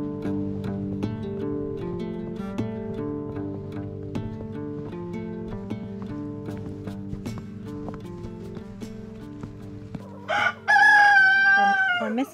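Chickens on a remote off-grid island homestead in Southeast Alaska in winter, a steady bed of low clucking and hum overlaid with a loud, drawn-out rooster crow near the end.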